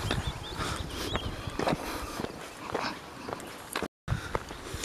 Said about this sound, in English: Oh, somebody's walking with dog.